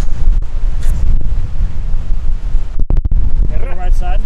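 Strong wind roars across an outdoor microphone at a golf scramble, a loud, continuous buffeting with gusty surges and a brief dropout near the end.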